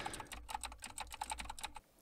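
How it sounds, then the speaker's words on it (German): Rapid keyboard typing and clicks captured close on a Rode PodMic placed outside an anechoic chamber, a steady run of crisp keystrokes for almost two seconds before stopping, with no talking. "Das sind meine Tippgeräusche und Klickgeräusche"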